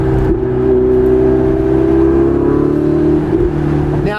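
A Ferrari 488 Spider with a turbocharged engine accelerating hard, producing a loud, steady, whirring engine drone with a rising pitch that continues throughout, heard from inside the car.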